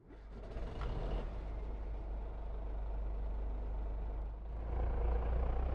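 Truck engine in Farming Simulator 25 running with a steady low, rumbling gurgle that stays loud throughout and swells slightly near the end, with no talk over it.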